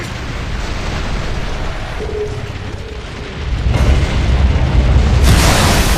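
A deep, rumbling boom swells and holds, with heavy low-end roar and a bright noisy burst near the end, an explosion in Gears of War 3's RAAM's Shadow DLC.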